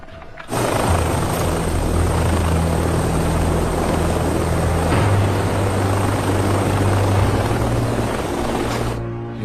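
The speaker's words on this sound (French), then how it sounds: "Il vient de sortir de l'hélicoptère." A helicopter's rotor and engine roar loudly and steadily throughout, starting abruptly after a brief quiet moment, with a low droning hum underneath.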